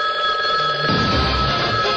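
A telephone line ringing in a radio studio, a steady electronic ring sounding continuously and loudly over the whole moment, alone without talk.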